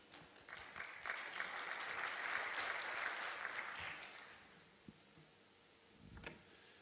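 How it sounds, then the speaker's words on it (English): Audience applause at the IndoGAS 2019 conference as a speaker comes up for a panel discussion, a moderate burst of clapping in a hall that swells and then fades out, followed by a few faint knocks. "warm round of applause for Doug as he comes up"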